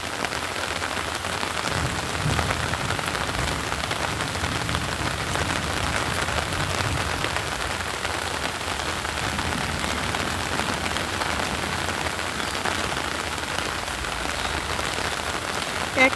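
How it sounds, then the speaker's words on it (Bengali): Heavy rain pours onto a flat rooftop that has filled with water, a dense, steady hiss and patter that stays even and continuous with no voices. "ছাতা উপরে নিয়েছি, কিন্তু তবু আমি ভিজে যাচ্ছি। ভালো বৃষ্টি ভালোই হয়েছে।"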